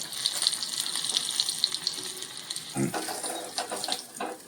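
Bhaji fritters deep-fry in hot oil with a continuous bubbling hiss and crackle, steady and fairly close, with a few heavier splashes and pops partway through.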